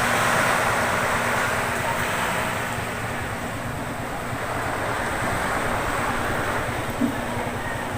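Steady broadband roar of sea waves and gusting wind by the sea, loud and continuous with wind buffeting the microphone, no voices.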